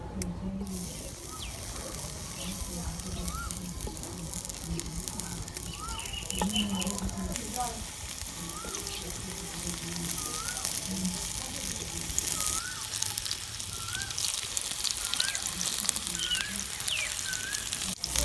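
Capsicum, or bell pepper, frying in oil in a pan in a village kitchen, giving a steady soft hiss and crackle while small birds chirp repeatedly in the background.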